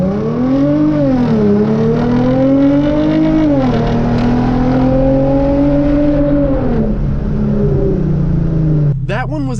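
Hyundai Genesis Coupe with a manifold riser accelerating hard from a stop with wheel spin, the engine note climbing through several gears in loud rising sweeps, with someone talking over it.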